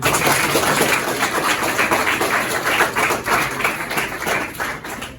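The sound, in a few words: applause for the children who prepared the party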